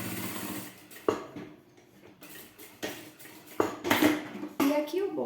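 A home sewing machine topstitches a seam on a fabric bag at its widest stitch length, with bursts of whirring stitching broken by clicks and clatter, close and fairly loud.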